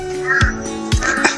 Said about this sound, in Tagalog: Yun, uwak. Yung tunog ng uwak.